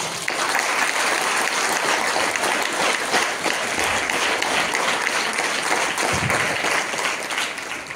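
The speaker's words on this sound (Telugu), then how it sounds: "నా కోసం గ్రేట్ రౌండ్ ఆఫ్ అప్లాజ్" A hall audience gives a guest speaker a long, sustained round of applause, many hands clapping in a thick, steady roar that holds its level for several seconds before easing slightly at the end.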